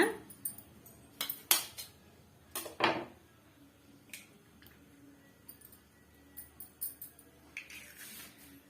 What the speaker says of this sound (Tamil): இப்போ இது கூடவே நான் ஒரு முட்டையை வந்து நான் உடச்சி சேர்த்துக்கிறேங்க